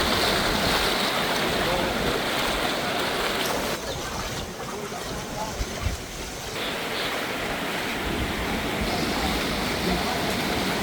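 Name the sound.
flooded river water flowing strongly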